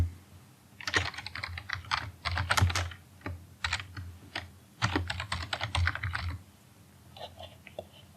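Typing on a computer keyboard, quick close clattering keystrokes in irregular bursts with a few brief pauses, moderately quiet and alone.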